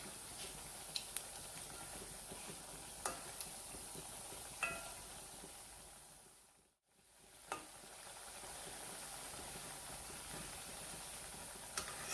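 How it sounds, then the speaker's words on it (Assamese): Balushahi dough pieces fry gently in refined oil over a low flame, making a faint, steady sizzling hiss with a few small pops scattered through it. "একেবাৰে ল' ফ্লেমত ভাজিব লাগিব"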